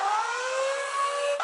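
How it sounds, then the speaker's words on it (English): A shrill alarm siren in the audio game Audio Roids sounds as loud, steady, piercing tones that slowly shift in pitch, with no other sound. "It's hard to focus on the directional signals while the shrill siren drills into my ears."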